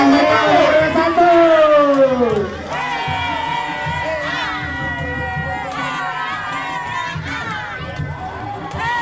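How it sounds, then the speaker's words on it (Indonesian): A crowd at a village carnival in Jatinangor, Indonesia, cheers with loud, shrill shouting and excited noise that swells at the start and then settles into a steady, dense hubbub. "Beri tepuk tangan yang meriah untuk RW 1."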